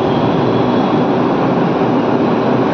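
A Delhi metro train pulls into a station bound for Kashmere Gate, a loud, continuous rolling roar and rumble that holds steady throughout, with no talking.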